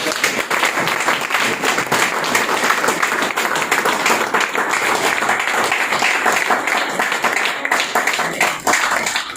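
A hall audience at a literary gathering rises for a standing ovation for a poet, clapping loudly and densely without pause from start to finish.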